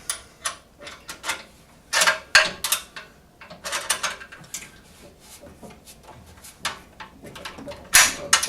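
Bolts on a Hyundai HYT140 petrol garden tiller are driven with a ratchet during assembly, giving bursts of close, sharp clicking in short irregular runs with brief pauses between them, and no talking.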